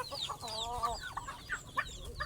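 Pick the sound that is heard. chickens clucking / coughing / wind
chickens clucking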